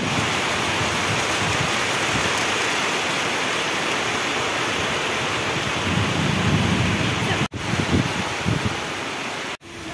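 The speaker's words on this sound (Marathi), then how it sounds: "फुल पाऊस, फुल राडा एकदम फ्लोर मध्ये" Heavy rain pouring steadily, a dense continuous roar of water that fills the whole stretch with no voices.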